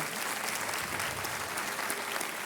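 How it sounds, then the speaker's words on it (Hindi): Studio audience on a television quiz show giving sustained applause, a dense wash of many hands clapping evenly throughout, fairly distant and soft. "तालियां बजती रहे"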